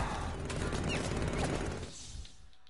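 Dense, continuous volley of gunfire from a Batman: Arkham Knight firefight, a loud rattling burst that carries on for nearly two seconds before cutting off into a quieter tail with a few scattered clicks.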